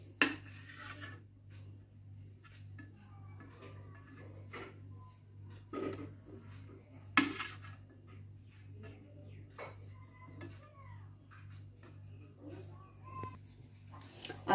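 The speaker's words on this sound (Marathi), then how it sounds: "आता आपण अंड्याचे असे उभे काप करणार आहोत" A knife slicing boiled eggs lengthwise on a hard surface, giving scattered light taps and clinks of blade and dishes over a steady low hum.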